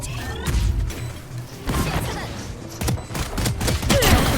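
Missiles and explosives go off in a shooter game, bursts of blasts and crashing impacts landing in clusters, loud and close, with a voice briefly cutting in.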